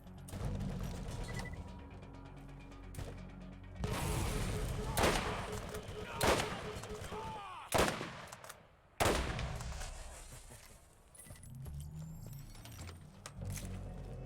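Gunfire in the video game Borderlands: sharp, loud bursts of shots separated by pauses, mixed with clicking mechanical weapon sounds and a steady low game rumble.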